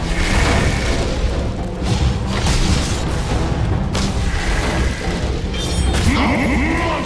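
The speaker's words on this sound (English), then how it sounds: "Radiant's middle tower has fallen." Dota 2 tower being destroyed amid a dense, loud barrage of booming impacts, crashes and battle effects layered over game music.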